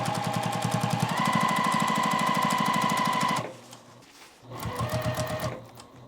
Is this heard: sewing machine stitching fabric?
yes